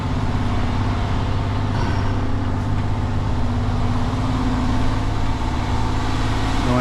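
A truck hauling an old machine along narrow Welsh country lanes, with a possible popped inner tyre, gives a loud continuous engine drone and road rumble that holds steady throughout with no pauses.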